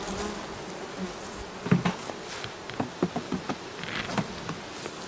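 Honey bees buzz around a hive frame, a close, busy insect drone with sharp knocks and taps of the frame being shaken or handled.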